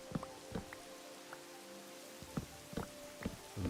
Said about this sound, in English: This rain mod makes rain so much more bearable.